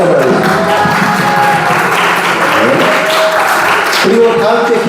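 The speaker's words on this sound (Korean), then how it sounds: "우리 다 같이 박수 한번 해주세요." A church congregation at a Sunday service claps together in a sustained burst of applause that fills the room, with voices mixed in over the clapping throughout.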